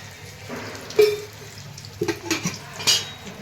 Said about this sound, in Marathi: हे लसूण आणि खोबरं बारीक करून घेतलेले तेलामध्ये परतून घ्यायचं.